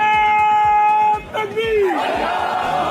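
A political crowd chanting slogans loudly in rhythmic unison, voices rising into a drawn-out shouted cry partway through.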